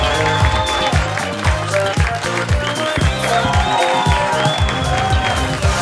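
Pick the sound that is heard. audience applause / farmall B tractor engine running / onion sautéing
audience applause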